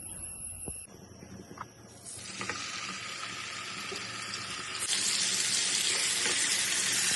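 Pieces of avoli fish fry in hot oil with a broad hiss that swells into a louder, steady sizzle as more pieces go into the pan, with no talking.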